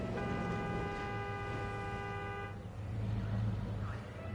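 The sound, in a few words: vehicle horn honking in the video game Jurassic World Evolution 2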